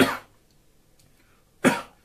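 Two sharp coughs, one at the start and another about a second and a half later, loud and close with quiet in between.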